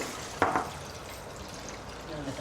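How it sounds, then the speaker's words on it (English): Juice poured into a blender for a fruit smoothie with red currants and blueberries: a short, soft splash and trickle heard once, close, in a quiet kitchen. "Okay, pour some juice in."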